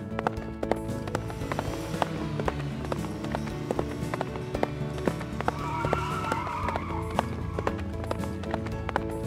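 Rapid hoofbeats clatter in a steady galloping rhythm, fairly close, over a busy background hum.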